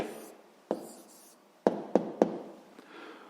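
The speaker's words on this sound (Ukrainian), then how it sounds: "записуємо тоді відповідь" Pen writing an answer by hand on paper, faint scratching broken by a few sharp taps of the pen, close and quiet.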